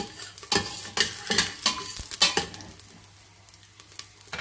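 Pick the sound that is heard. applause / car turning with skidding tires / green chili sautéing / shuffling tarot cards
green chili sautéing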